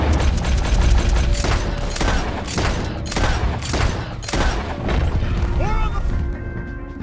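Heavy gunfire in Red Dead Redemption 2, with a steady barrage of sharp, overlapping shots cracking close and loud over a thick background roar. Faint voices are heard under the shooting toward the end.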